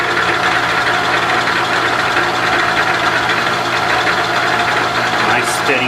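A Bridgeport milling machine with Niagara cutters cuts under steady hand feed, a loud continuous grinding machining drone with motor hum, close and unbroken, a brief sharper rise near the end.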